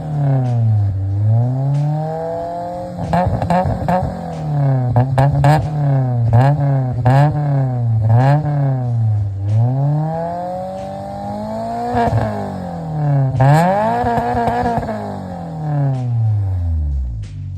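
A Mitsubishi Eclipse engine revs repeatedly, pitch climbing and falling in rhythmic surges, loud and close, with a throaty growl between blips.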